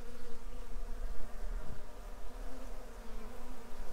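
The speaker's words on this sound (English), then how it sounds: "There's a big old drone." Honey bees buzz in a steady, dense drone close by as a drone bee leaves a tree during a trap-out, with a constant hum and no voices.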